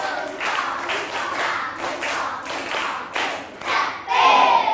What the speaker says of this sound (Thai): ปรบมือพร้อมกัน1ชุด